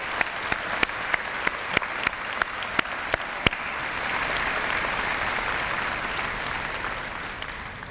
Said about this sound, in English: let's give a round of applause to our newest class of